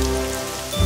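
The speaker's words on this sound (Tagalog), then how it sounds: "Sa wakas, narito na rin ang ulan!" Dense rain patter over a steady tonal musical bed, loud and close, with a low thump at the very end.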